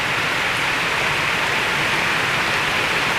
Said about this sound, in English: Last couple of days it hasn't stopped raining.